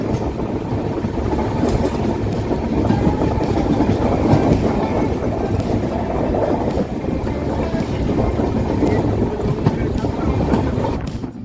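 Kanchankanya Express running through North Bengal, a loud, steady rumble of wheels and carriages heard from onboard, with continuous wind buffeting and no break throughout.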